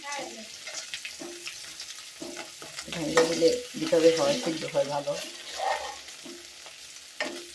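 Hilsa fish roe, broken open, frying in a pan: a moderate sizzle with scraping stirs that swell in the middle and then ease off, while someone talks over it close by.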